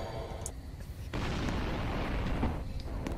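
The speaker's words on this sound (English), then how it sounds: "I'm hearing explosions." Explosions in the Roblox video game rumble as a deep, sustained boom that swells suddenly and holds loud and dense, following a softer lead-in with a faint pop.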